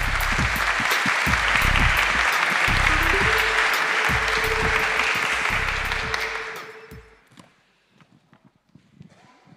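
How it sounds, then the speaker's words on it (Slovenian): Audience applause at a corporate awards event, loud, sustained clapping from a hall crowd that holds steady for about six seconds, then fades out quickly into a quiet room. "En aplavz."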